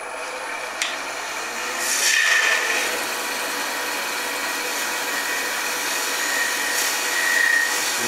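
A freshly sharpened blade, honed to 180 grit, shaves smoothly through wood in a steady, close hiss that swells briefly twice, with no talking.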